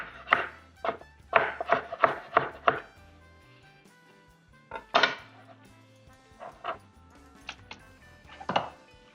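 A knife chops through frozen crawfish meat and shrimp on a board in quick bursts of sharp knocks, then pauses and resumes with scattered single cuts, close and clear.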